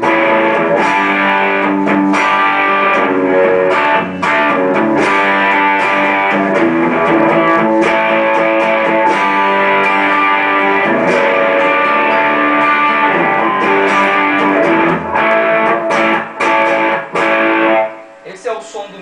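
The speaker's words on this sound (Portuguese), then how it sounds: "Esse é o som do meu Classic junto com o equalizador ligado." Electric guitar played through the Classic preset of a Boss GT-10 multi-effects unit with its equalizer switched on, into a Fender Twin Reverb: a dense, sustained distorted riff with chords and notes ringing continuously, loud and close, stopping abruptly near the end.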